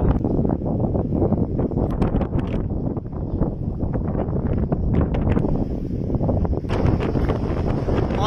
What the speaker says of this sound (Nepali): हावा पनि मस्त चल्दैछ यहाँ